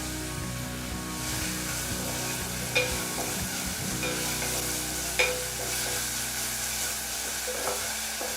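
Garlic and cumin seeds frying in a pan for horse gram soup, a continuous bright sizzle with occasional faint stirring clinks and a low steady hum underneath.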